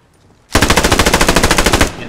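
A machine gun in the World War II shooter game Post Scriptum fires a loud, close burst of rapid, evenly spaced shots lasting about a second and a half, then cuts off abruptly.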